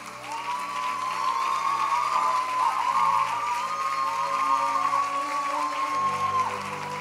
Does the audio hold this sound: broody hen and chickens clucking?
no